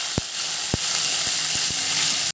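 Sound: curry leaves sizzling in hot coconut oil

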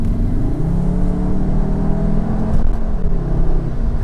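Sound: Cupra Formentor engine revving

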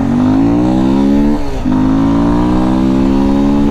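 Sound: Yamaha Lander 250 motorcycle accelerating away

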